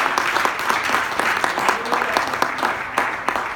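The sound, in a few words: congregation applause in church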